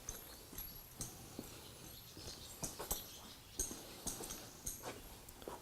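Hooves shifting and stamping from a mare being saddled with a blanket, irregular soft thuds and scuffs at close range, fairly quiet with no talking.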